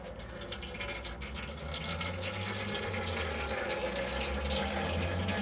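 Engine oil drains from a Vauxhall Insignia 2.0 CDTi into a pot with a steady, close trickle and splash that holds continuous and even throughout.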